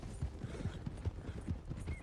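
Horses trotting in Red Dead Redemption 2, a Tennessee Walker among them, with steady rhythmic hoof clops on soft ground, fairly quiet and even-paced.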